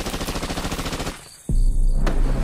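Rapid bursts of gunfire crackle in a fast rhythmic string, then a brief lull, followed by a loud sharp crack and dense heavy booming shots close by.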